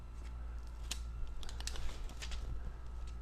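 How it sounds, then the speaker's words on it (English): Backing is pulled off adhesive tape while insulating a garage door, giving faint, quiet crackling peels and short scratchy bursts over a low steady hum. "Hardest part about this tape is getting the back peeled off."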